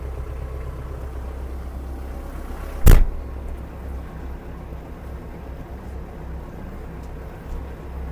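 A Kubota KL-550 mini tractor engine with glow-plug ignition idles in a steady low rumble. A single sharp knock cuts through partway, then the even running hum carries on alone.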